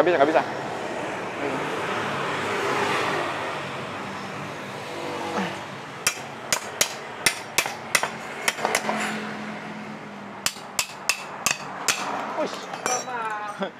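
A hammer strikes a part of a Honda Vario 125 scooter from above: after a stretch of broadband workshop noise, a series of sharp metallic blows lands in two irregular bursts, with people talking nearby.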